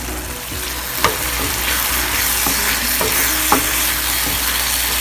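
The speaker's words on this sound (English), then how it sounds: "So when you cook this sauce till the oil separates and the soy sauce thickens up." Sauce of oil, water, oregano and soy sauce sizzling steadily in a pan while a spoon scrapes and stirs it, with a few sharp clicks of the utensil against the pan; no talking.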